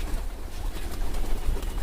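A flock of trained pigeons comes down onto scattered grain, with soft cooing and fluttering wingbeats close by over a steady outdoor background.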